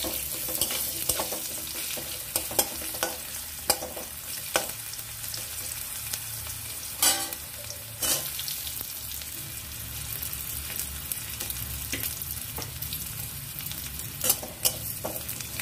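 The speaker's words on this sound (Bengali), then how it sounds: "আলুগুলো একটু নাড়াচাড়া করে ফ্রাই করে নেব" Potato pieces stirred in a hot pan with oil and fried spices, a steady close sizzle broken by scraping strokes of a spoon against the pan, with no voices.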